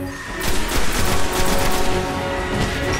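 Enemy gunfire in the sci-fi shooter Destiny, a loud, dense and continuous volley of rapid shots that starts after a brief moment and keeps up without a break, close and sustained, with no voices.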